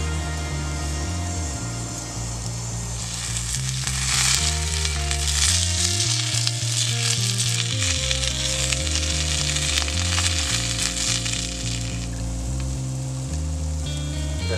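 Food sizzles steadily in hot oil in a pan at a woodland wild camp, a continuous close crackling hiss that swells louder midway, with no talk over it.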